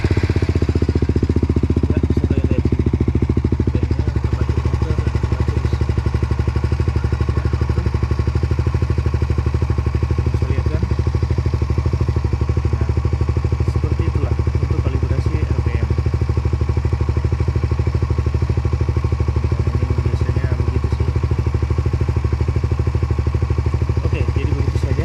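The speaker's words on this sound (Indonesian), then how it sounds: "Ntar saya nyalakan motor untuk lihat ya." A Suzuki GSX-R150 motorcycle engine, fitted with a quickshifter, starts and settles into a steady, loud, close idle with a rapid mechanical clatter that continues evenly throughout.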